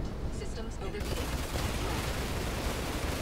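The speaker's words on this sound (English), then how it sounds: "These missiles are going everywhere." Missiles and gunfire burst through a Star Citizen Arena Commander dogfight flown in an F7A Hornet, a dense continuous roar of explosions and shots that thickens after the first second, loud and unbroken throughout.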